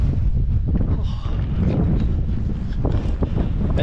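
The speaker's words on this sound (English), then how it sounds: "It's a wee bit windy." Steady strong force 8 gale wind at the Mull of Galloway buffets the microphone with a constant low roar, loud and unbroken throughout.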